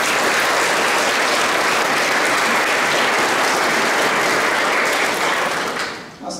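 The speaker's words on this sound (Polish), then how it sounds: "wielkie brawa" A large crowd applauds loudly and steadily at a brass band concert, a dense wash of clapping that holds for several seconds before thinning out at the end.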